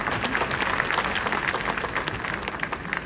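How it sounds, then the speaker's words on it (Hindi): An audience at a seminar applauds a woman presenter, a steady patter of many hands clapping at moderate distance, continuous for a few seconds. "तो जोरदार ताली मैम के लिए भी।"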